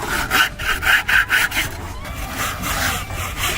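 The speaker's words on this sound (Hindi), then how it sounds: "इस बार तुमको मिल रही है बड़ी आरी" A big hand saw cuts through wood in rhythmic rasping strokes, about two per second, loud and close, with the strokes blurring into steadier sawing later and no talk.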